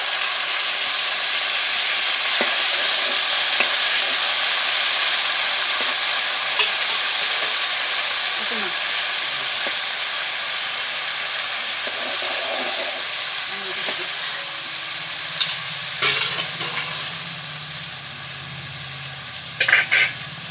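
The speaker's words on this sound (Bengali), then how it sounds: "এবার আমি পরিমাণ মতো একটু জল দিয়ে দিচ্ছি।" Steady, loud sizzle and hiss from a hot pan of lentil and taro-stem curry after water is added, with faint stirring clinks and a few sharp scrapes toward the end, no talking.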